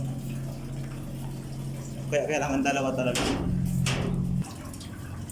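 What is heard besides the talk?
pump draining seawater from a boat's engine room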